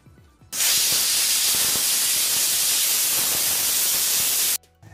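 A pressure cooker full of green pea pulao vents steam in one loud, continuous hiss lasting about four seconds, bursting on and cutting off abruptly.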